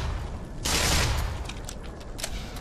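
A loud burst of a grenade explosion in the game Black Mesa erupts, a broad noisy blast lasting under a second, followed by scattered fainter crackles and pops.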